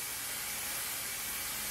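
Continuous hissing spray of Super 77 spray adhesive being applied to an oar shaft, a steady, even rush without breaks for the whole stretch.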